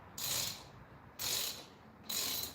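A ratchet tightens a bolt on a Yamaha XS250 motorcycle being rebuilt, giving three short, close, evenly spaced bursts of rapid clicking in a quiet workshop.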